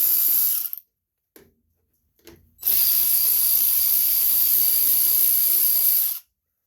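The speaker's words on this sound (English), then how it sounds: "You can use either a Phillips screwdriver or a 5/16 socket, or a flathead screwdriver, sorry, to get these off." A ratchet with a 5/16 socket removes screws from the carburetor of a Briggs & Stratton 5 horsepower engine, heard as loud, close bursts of rapid ratcheting, first briefly and then in one long continuous run, with short silent gaps between.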